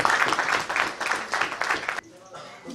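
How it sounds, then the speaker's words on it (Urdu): Applause at a farewell party honouring a retiring traffic sector in-charge in Lahore, a crowd clapping in dense bursts that break off sharply partway, leaving quieter room noise and faint voices. "ان کو خراج تحسین کرنے کے لیے ذرا بھرپور تالیاں ذرا بجائیں"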